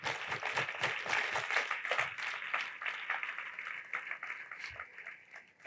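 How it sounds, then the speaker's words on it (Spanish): A congregation applauds during a church sermon, a dense, continuous clapping that fills the room for several seconds with no voices over it, gradually thinning toward the end. "Dale un aplauso al Señor."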